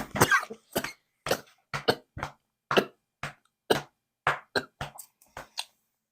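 Person coughing repeatedly after spit went down the wrong pipe, a series of short, close, separate coughs and throat bursts with brief silences between them.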